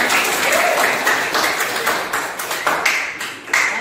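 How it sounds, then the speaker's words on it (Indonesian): Students in a classroom clap for a classmate during a history teaching session, a short burst of close, fairly loud hand-claps with uneven rhythm that tapers and briefly swells again. "Tepuk tangan"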